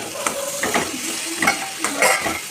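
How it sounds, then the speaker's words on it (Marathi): Mixed vegetables for veg biryani are stirred into an oily masala with yogurt, giving a close sizzle with repeated soft scraping strokes of a spoon against the pan. "भाज्या चांगल्या परतवून घ्यायच्या"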